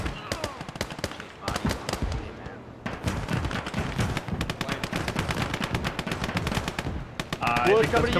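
Tank gunfire and rapid shooting in the World War II strategy game Call to Arms: Gates of Hell during a trench battle, dense repeated loud bursts and booms running continuously with brief pauses.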